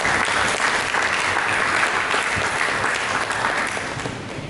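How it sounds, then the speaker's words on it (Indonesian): Church congregation applauding for Jesus during a sermon: sustained, loud, dense clapping from a large crowd filling the room, steady throughout and tapering slightly at the end. "Mari kita beri tepuk tangan bagi Yesus."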